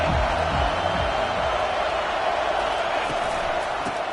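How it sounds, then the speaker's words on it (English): Stadium crowd noise from the NCAA 25 college football video game, a steady, loud roar of fans filling the whole stretch with no break, voices blurring into a dense wash. "This crowd trying to show them what it's going to be like all day in this house."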